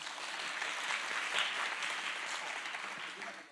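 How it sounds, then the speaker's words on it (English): Steady applause from an audience at an evening Title IX panel event, honoring the two hosts; continuous dense clapping at moderate distance, holding level throughout without speech. "one more round of applause for our two hosts."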